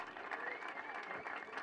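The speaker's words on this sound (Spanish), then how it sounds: "un abrazo y un aplauso grande para todos y cada uno" At a youth camp of young socialists, the gathered audience applauds, a brief, even, fairly distant patter of many clapping hands, faint overall.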